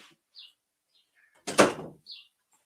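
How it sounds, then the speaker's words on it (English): A household door closes at night with one solid thud, preceded by a faint creak and soft chirping birds outside, then quiet again. "Let me close the door."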